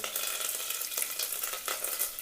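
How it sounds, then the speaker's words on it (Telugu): Curry leaves crackling and spitting in hot oil in a pan while making upma. The sizzle is close, dense and steady, with a couple of sharper bursts, and no one is talking. "నెక్స్ట్ కరేపాకు చిట్టి చిట్టి అంటాను ఇప్పుడు"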